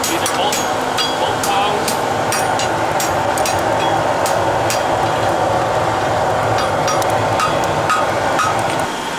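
Hot steel being hammered on an anvil while forging a straight-blade draft horse shoe fuller, with a heel being rounded: loud, close, rapid metallic blows over a constant noisy workshop hum.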